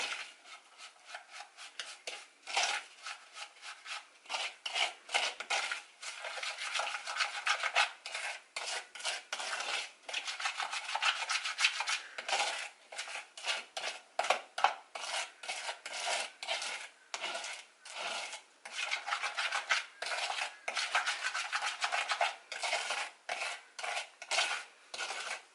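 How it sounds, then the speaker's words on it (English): Ingredients being mashed together into a flavoured butter in a bowl, a long run of close scraping and clinking strokes from a utensil in an uneven rhythm, fairly quiet and with no talking. "I am going to just mash that all together to make it like a"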